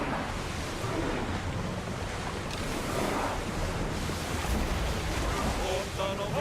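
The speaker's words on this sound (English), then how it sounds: "Oh, feel that wind!" Steady wind rushing over open sea while sailing a ship in Assassin's Creed Odyssey, a continuous broad roar with surf wash and faint creaks, unbroken for the whole stretch.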